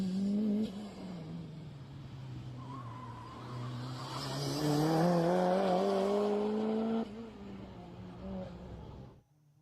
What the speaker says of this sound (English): Gottschalk climbing the hill on the backstretch, hard on the throttle